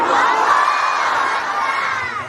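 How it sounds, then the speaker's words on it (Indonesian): A large crowd of worshippers at a religious gathering loudly shouts takbir together in one sustained roar of many voices, dense and close, holding steady before easing off at the end. "Ayo, saya teriakkan takbir, teriak yang kencang ya."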